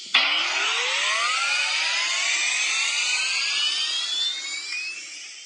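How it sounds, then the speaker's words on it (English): Dynamo firing up on a Bachmann Union Pacific ALCo 2-6-0 model locomotive sound system, a sudden onset followed by a rising whine that climbs in pitch and settles into a steady whirring hum, loud and near. "And the sound of the dynamo being fired up."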